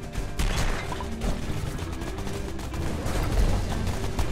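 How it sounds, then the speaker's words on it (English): Dense, continuous enemy gunfire in the twin-stick arcade shooter Blamdown: Udder Fury, a steady stream of rapid shots and crashing impacts filling the whole moment with no talking. "It's actually kind of hard to avoid their shots."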